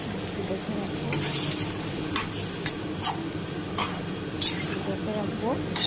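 Tomatoes hit a hot pan and sizzle steadily while a spoon stirs and scrapes, with occasional metallic clinks and a voice speaking in the background.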